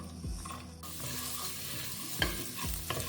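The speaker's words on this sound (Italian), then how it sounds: "tritiamo una cipolla al coltello e la facciamo soffriggere" Chopped onion sautéing in a pan, a soft steady sizzle with a few knocks and scrapes of a spoon stirring against the pan.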